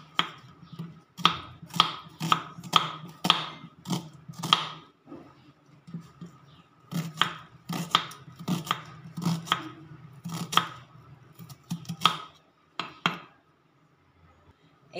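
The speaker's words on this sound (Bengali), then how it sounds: "প্রথমে মাঝারি সাইজে 3টে পেঁয়াজ কুচি করে নেব।" Knife chopping three medium onions on a cutting board, crisp rapid clusters of chops with short pauses between bursts, close and alone.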